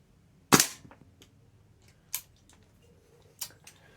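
A PTS Mega Arms gas blowback airsoft rifle fires three sharp, loud single shots spaced about a second and a half apart, each followed by a short mechanical clack, with little else in between.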